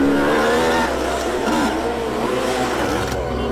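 Several motorbikes arrive with loud, steady engine drone, one more rider pulling in close amid continuous revving and road noise, with faint voices underneath.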